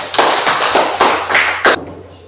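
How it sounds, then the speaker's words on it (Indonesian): Scattered claps from a classroom group applauding, several loud broadband bursts at an uneven beat over about two seconds, then a sudden stop into quiet. "Selanjutnya kita berikan aplaus untuk kelompok 2"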